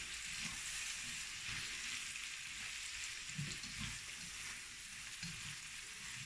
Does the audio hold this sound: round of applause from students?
no